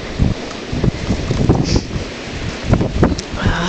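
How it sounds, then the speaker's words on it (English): Cold wind gusts steadily across a snowy barnyard after a big snowfall, a continuous loud rushing roar with microphone buffeting and rumbling surges, no voices. "I can hear the wind."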